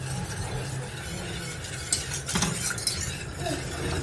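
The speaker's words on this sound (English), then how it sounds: "So we're just going to put orange juice in here, sugar, 3/4 cup of sugar. I'm going to stir it." Orange juice and sugar being stirred in a pot, giving a steady, close scraping and swishing with a few sharper clinks of the spoon midway, no talking.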